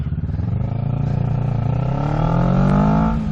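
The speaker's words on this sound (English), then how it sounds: "So you start the bike again because you stalled it out." A motorcycle restarted after stalling, the engine running loud and close with a steady growl whose pitch climbs gradually as it accelerates, with no voices.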